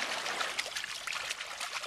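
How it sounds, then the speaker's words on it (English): Water splashes and trickles at sea in Haulover Bay, St. John, as a small child plays, a steady broadband wash of sloshing close by with no talk over it. "Can you splash in the water?"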